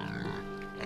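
Pigs grunt in a farm pen, a low, steady snuffling murmur with soft overlapping grunts held close throughout, no voices present.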